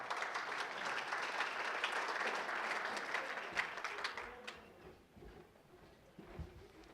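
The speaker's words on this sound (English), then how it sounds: "Give Jackie a nice round of applause." An awards gala audience applauds, a full round of clapping for about four seconds that thins and fades out, leaving quiet room noise with a few small knocks.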